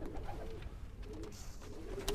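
Soft pigeon coos murmur in short low phrases, fairly close, against a steady background hum with a faint click near the end.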